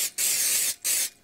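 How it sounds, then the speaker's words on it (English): Pam cooking spray is sprayed onto pans in a camper van kitchen in the Yukon wilderness before making pizza from scratch: two loud, close hissing bursts with a short gap, then the start of a third. "I should probably spray these down with some Pam"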